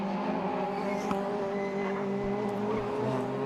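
Super1600 rallycross race cars, a Mini and a Vauxhall, race at Mondello on mixed loose and tarmac sections, heard as a steady, fairly faint engine drone with a sharp tick or two.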